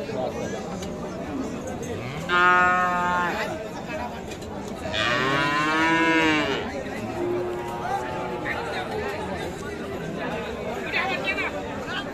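Cattle moo loudly several times, two long bellowing calls standing out over a constant murmur of crowd chatter and voices at the busy outdoor Ambari cattle market in Dinajpur.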